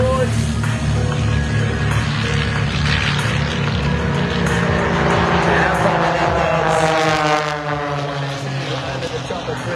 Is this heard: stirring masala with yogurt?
no